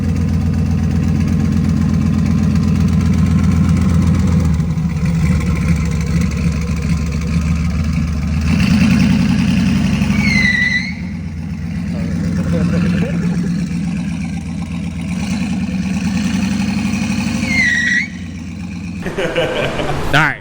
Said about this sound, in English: Alright, so it's probably the lamest burnout ever.